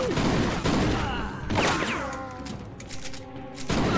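Gunfire in the Mafia II video game: a burst of loud, close shots with sharp thuds and a whooshing sweep, settling into ringing echoes before another blast near the end.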